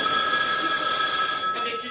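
A mobile phone rings with a bright, steady electronic tone that stops partway through, heard close and clear.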